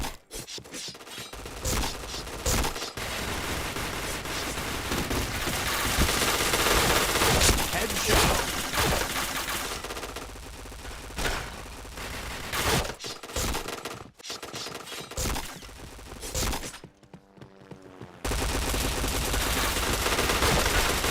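Dense, loud bursts of automatic gunfire and rapid shots in a shooter video game, nearly continuous with brief gaps, heavy and close throughout.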